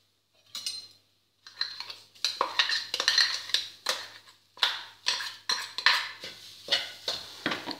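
Freshly ground coconut being scraped and tipped from one vessel into a preheated pan for homemade desiccated coconut, with a run of close metallic clinks and scrapes of utensils against cookware in short irregular bursts.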